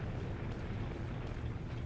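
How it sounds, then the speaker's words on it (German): Rock blasted apart by an explosion in Resident Evil 4, heard as a continuous heavy low rumble that fills the whole moment at a steady, moderately loud level, with no speech. "Stattdessen haben wir den Felsen weggesprengt."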